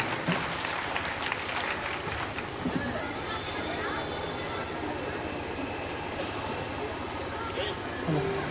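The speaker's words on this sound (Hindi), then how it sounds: "एक बार जोरदार तालियों से इन बच्चों का हौसला अफजाई करेंगे।" Audience applause for a student performance by SPS International Academy girls at an evening tribute event in Kosi; dense, sustained clapping from a crowd, fairly even in loudness throughout.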